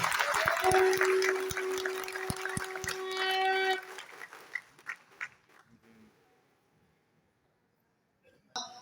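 Audience applause at a Hindi kavi sammelan (poetry gathering) held by the Panchayati Raj department in Lucknow: a dense burst of clapping with a steady ringing tone over it, thinning after about four seconds into a few scattered claps and near quiet.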